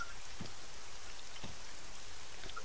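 Rain falls in the survival video game Altis Survival as a constant, even hiss of drops, with a few soft thuds standing out, and no voices over it.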